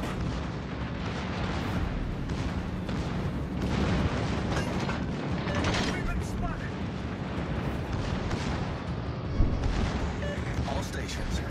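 Cleveland light cruiser guns in World of Warships: Legends pound away in a dense, continuous barrage of heavy booms and rumbling blasts, loud throughout with a sharper crack near the end.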